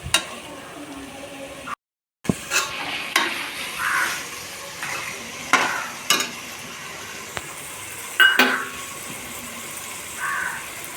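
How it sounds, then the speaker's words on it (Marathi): Goat intestine being stirred with dal and roasted masala paste in a pot, producing scraping and clinking stirs with soft sizzling between them and a brief gap of silence early on. "हे आपण भाजलेलं वाटण होतं मगाशी, ते टाकतोय। मस्त असं हलवून घेऊया सगळं।"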